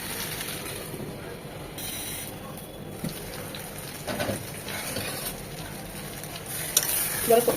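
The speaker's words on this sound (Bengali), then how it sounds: "আলু আর সজনেটাও 2 থেকে 3 মিনিট মশলার সাথে কষবে" Potatoes and drumstick pieces being sautéed with spices in a pan for a salted fish stew, with steady sizzling and scraping stirs throughout and a few sharper clanks near the end.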